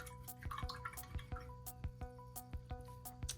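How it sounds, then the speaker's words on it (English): A paint brush is swished and rinsed in a container of water, giving soft, quick repeated drips and splashy taps close up, quiet and with no voices. "I'm gonna wash that brush off,"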